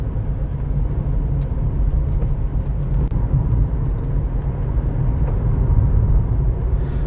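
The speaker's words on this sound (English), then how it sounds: "the engine pulls so nicely, it's really smooth" A Mercury Cougar V6 engine runs while driving on the road, heard from inside the car as a steady, smooth low rumble mixed with road noise. No one speaks.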